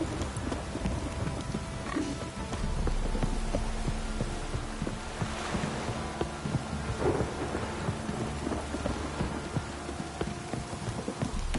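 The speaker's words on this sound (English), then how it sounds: "This downpour's a bastard, it is." Steady rain pours down in The Witcher 3 game world, with low rumbles of thunder rolling beneath a continuous wash of falling water, no voices present.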